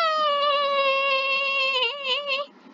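A person's voice imitates a crying baby, producing a sustained, wavering, cat-like wail for about two and a half seconds, close and loud, with no other sound.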